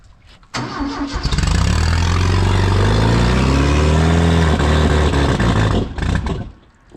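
A farm sprayer engine cranks and catches after a brief quiet start, then runs loud and close with rising and falling revs before cutting back near the end.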